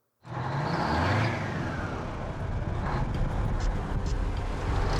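The General, a heavy tow truck, revs its engine loudly and up close, a sustained rough roar that rises and settles with no talking.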